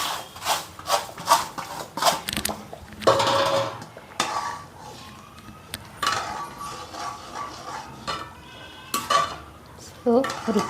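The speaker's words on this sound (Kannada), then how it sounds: "ಈ ಥರ ಉಪ್ಪಿಟ್ಟು ರವೆನ ಈ ಥರ ಹಾಕ್ಕೊಂಡು ತಿರುಗಿಸ್ತಾ ಇರಬೇಕು" Semolina is stirred into vegetable upma in a pan with repeated clattering scrapes of a spoon against the metal, coming in uneven bursts with short pauses between them.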